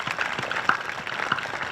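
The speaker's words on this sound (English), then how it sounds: "You guys all really deserve another round of applause" A graduating class audience at a high school honor society and scholarship night gives steady, moderately close applause, many hands clapping together in an even patter.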